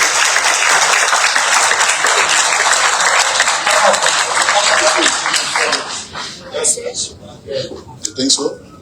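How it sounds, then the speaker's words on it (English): People at a Liberian education launch event clap loudly and steadily as others come forward, then the applause dies away and voices talk over scattered remaining claps. "Let's clap for them as they come forward."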